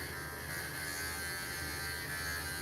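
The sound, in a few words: electric clipper shaving a Morkie dog's paw pads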